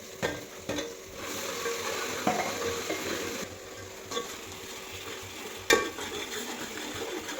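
Onions sizzle steadily in a hot pan as they brown, broken by a few sharper scrapes and clanks of a spoon stirring them.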